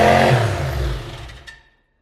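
An LS4 V8 swapped into a Pontiac Fiero starts with a short, loud rumbling burst near the microphone and a quick rev with the throttle blade popped open, then is shut off at once and fades into silence.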